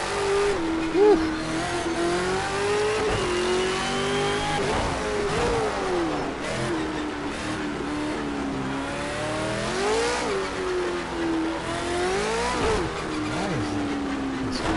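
A V8 Supercar engine revs hard through upshifts and downshifts on a lap at Long Beach in a racing video game, loud and steady throughout, with brief tire squeal.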